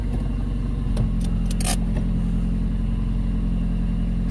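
A 2002 Nissan Sentra SE-R Spec-V engine, just fitted with a new throttle body, holds a steady high idle that hangs without dropping. A few light clicks sit over the constant engine drone.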